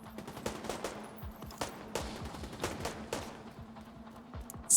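Video game gunfire, bursts of sharp shots in an irregular rapid rhythm against a low steady hum, fairly faint with a louder hit at the very end and no talk.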